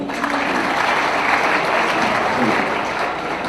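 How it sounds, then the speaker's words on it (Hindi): An audience at a poetry recital in Indore claps loudly and continuously, a dense, steady wave of applause filling the hall throughout. "एक बार तालियां बजाइए।"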